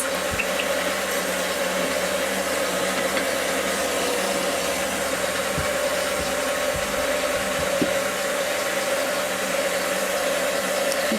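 An electric mixer beats egg yolks and pieces of butter for cinnamon roll dough, a steady, even motor whir running continuously and close throughout.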